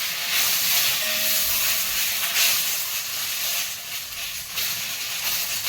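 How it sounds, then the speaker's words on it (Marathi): Curry leaves frying in a pan on a low gas flame, giving a loud continuous hiss and sizzle that swells and eases slightly throughout. "गॅस एकदम कमी करायचा आणि हे सगळे कढीपत्ता पूर्ण फ्राय करून घ्यायचा."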